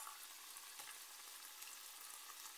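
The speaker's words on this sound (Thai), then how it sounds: "ตอนนี้เราก็ผัดพริกเอาหมูลงเสร็จเรียบร้อยนะคะ" Pork stir-frying with chili and chopped spring onion gives a steady, soft hiss of sizzling in a pan, even and unbroken, quiet and close with no voices.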